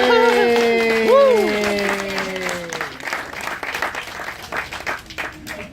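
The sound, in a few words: audience applauding at an alligator show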